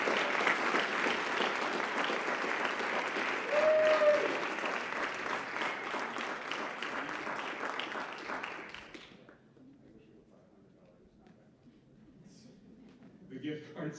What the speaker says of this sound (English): please give a round of applause to Miss Kendall Detmeyer